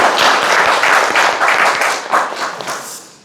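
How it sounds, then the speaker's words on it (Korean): Loud, dense applause from an audience at a rural basic income legislative forum in an agricultural technology center hall, steady clapping that fades slightly toward the end. "여러분 큰 박수 한번 보내주셨으면 좋겠습니다"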